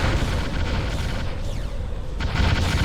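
Dense, sustained rumbling booms and blasts as enemy structures are blown up in the Ground Control real-time strategy game, a continuous loud wash of explosions with no talk.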